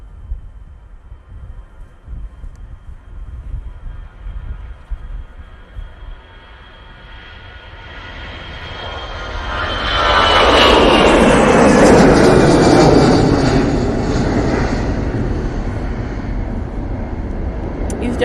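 An Easyjet airliner departs Manchester Airport bound for Lisbon, its jet roar swelling from a distant hum to a loud, sustained rumble at close range, with a voice speaking over the start.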